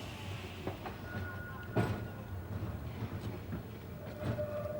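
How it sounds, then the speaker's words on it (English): A Blackpool tram rolls along its rails, giving a low steady rumble with a few faint clacks and a brief squeal. It sounds fairly distant and quiet, with no talk. "sure enough, a tram will come along"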